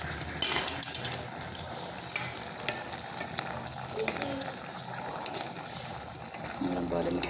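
Black chicken (karinkozhi) medicinal curry bubbling in a pot, with stirring and the occasional clink of a utensil against the metal, heard close and steady throughout.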